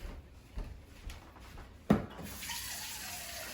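Water running into a gravy pan in a kitchen, starting with a sharp splash and then settling into a steady, moderately loud pour that continues to the end.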